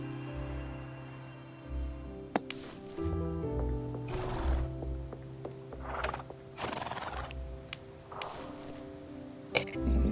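Horses neighing and whinnying in the Star Stable video game, several shrill calls spread over the clip alongside hoof clip-clops and a looping game melody.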